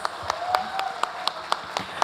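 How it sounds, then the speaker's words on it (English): An audience at a Naga students' federation general conference applauds the Tangkhul Nagas from Myanmar, moderately distant clapping with a few louder individual claps standing out at a regular pulse. "loud round of applause"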